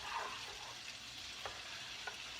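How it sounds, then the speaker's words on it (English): Chocolate gravy stirred in a pan on the stove: a faint, soft scraping swirl with low sizzling underneath, with a couple of small distinct scrapes near the end, quiet and steady with no talking. "I'm just stirring this"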